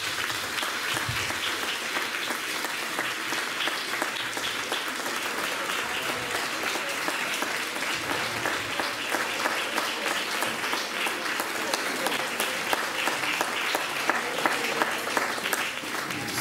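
An audience at a talk on fighting the mafia and femicide applauds, a dense, steady clapping that carries on unbroken for several seconds.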